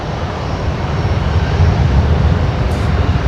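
A Qantas Boeing 737-800 jet departs Brisbane Airport at night with a loud, steady engine roar, mostly low and rumbling, that swells slightly over a few seconds; no speech.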